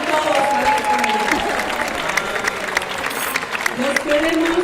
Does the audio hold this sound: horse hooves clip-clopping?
no